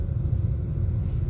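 A car's low, steady rumble carries on while it drives through a snow storm, muffled and fairly quiet, with no other sounds on top.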